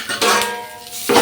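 A metal lid goes down onto a cooking pot in a home kitchen, giving a sharp clink followed by a brief ringing resonance and a second light clatter.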